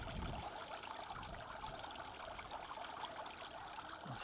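Water trickling over a small garden pond waterfall, a soft, steady splashing wash that stays faint and continuous with no voices.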